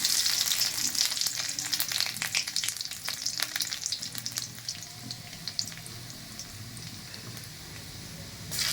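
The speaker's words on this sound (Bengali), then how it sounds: "কড়াইতে সরিষার তেল দিয়ে দেবো। তেল গরম হয়ে গেছে, জিরে, শুকনো লঙ্কা, তেজপাতা আর কয়েকটা রসুন দিয়ে ফোড়ন দেবো।" Cumin, dried chilli, bay leaf and garlic sizzle in hot mustard oil in a kadai, a loud crackling fry that gradually settles into a softer steady sizzle, with no voices.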